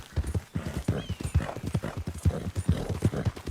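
A horse gallops in Red Dead Redemption 2 with fast, even clip-clop hoofbeats, loud and close, alongside a brief whinny and some game noise.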